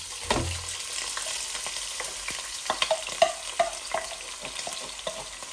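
Grated onion, garlic and frozen grated paste frying in a pan; an initial thump then a moderate, steady sizzle with occasional sharp spatula scrapes and taps.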